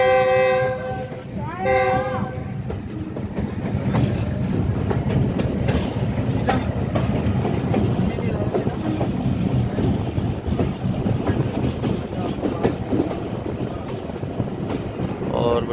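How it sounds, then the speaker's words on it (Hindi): Jaffar Express passenger train running through a junction station near Quetta without stopping, with horn blasts early on followed by a steady loud rolling rumble and clatter of wheels that persists throughout. "यहाँ से ट्रेन जो है थ्रू आउट पास होएगी,"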